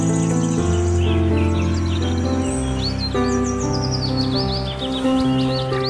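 Common myna birds call outdoors in a dense, continuous chorus of chirps, whistles and chattering notes. The calls are close and loud and keep going for several seconds without any talk.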